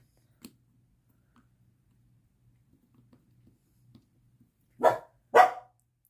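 A dog gives two close, loud barks near the end, after a long quiet stretch with only faint small taps and rustles.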